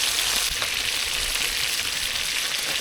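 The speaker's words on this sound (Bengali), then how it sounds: "বেশি কড়া করে ভাজবো না" Dough paratha frying in a pan during cooking, a steady, even sizzle throughout, close and moderately loud with no talking.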